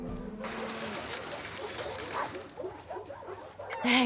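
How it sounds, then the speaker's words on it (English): A dog in the video game Days Gone gives short yips and whimpers, close and fairly loud, scattered through a few seconds with a brief high whine near the end; a voice is heard too. "Hey, you crazy dog."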